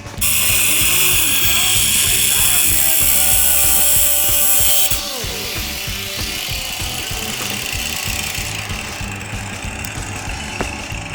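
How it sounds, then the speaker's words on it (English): A loud, steady whirring power tool running continuously, grinding on with a rough mechanical buzz, dropping slightly in pitch and level midway. "We're gonna drill a hole right there. Drill it."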